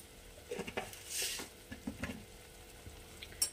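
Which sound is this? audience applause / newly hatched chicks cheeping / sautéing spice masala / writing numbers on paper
sautéing spice masala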